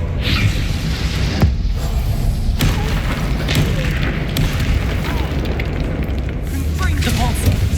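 Confringo and Bombarda blasting spells going off in a Harry Potter wizarding game, heavy booms and bursting pops thudding repeatedly under a voice calling out spells throughout.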